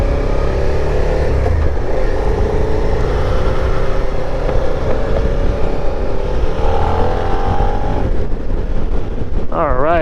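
A Suzuki SV650 motorcycle pulling hard in third gear at speed, a loud continuous engine drone with heavy wind rush that rises steadily toward highway pace, heard close from the rider's position.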